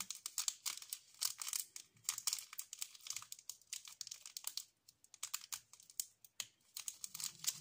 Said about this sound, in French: j'arrive pas à ouvrir le sachet déjà